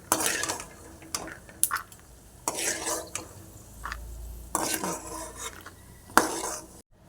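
Melon seeds roast in a pan for dry fruit laddu as a spatula stirs and scrapes against the metal in irregular close strokes, with light clinks and no talking.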